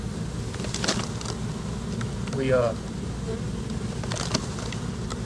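Honey bees from a colony nested inside a shed wall, a steady dense buzzing drone with individual bees whining past close by, while a person briefly speaks.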